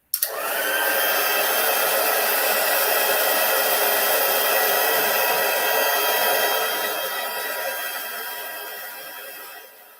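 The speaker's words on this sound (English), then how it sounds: "So get my heat tool back." A heat tool blows steadily and loudly for nearly ten seconds while embossing powder is melted over copper foil, a continuous hair-dryer-like roar that eases off slightly toward the end.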